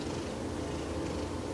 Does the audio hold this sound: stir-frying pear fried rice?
no